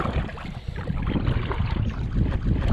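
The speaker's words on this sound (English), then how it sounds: "The wind's picking up." Strong gusting wind buffets the microphone while out kayaking on a lake, a loud continuous low rumble with some water movement beneath, no voices.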